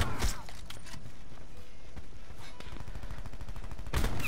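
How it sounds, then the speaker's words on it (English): Rapid gunfire in Call of Duty Black Ops 4 during sniper play, loud sharp cracks at the start and end with fast repeating shots through the middle, a voice speaking briefly over the fight. "He's actually shooting me."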